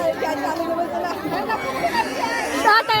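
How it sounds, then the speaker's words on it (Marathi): Dense crowd chatter at a temple renovation festival for a Hanuman temple, many overlapping voices filling the space continuously and fairly loud, with no single speaker standing out. "गर्दी"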